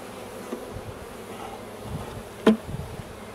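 Honeybees swarm around an opened beehive during a spring inspection, giving a steady, soft buzz of many insects close by, interrupted once by a sharp wooden knock and a few smaller taps.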